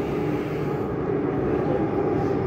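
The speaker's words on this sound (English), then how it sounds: "Where's the train? Here's the train." An MTR train pulls into a Hong Kong station platform, a loud, steady rumbling roar of the approaching train that holds evenly throughout without a break.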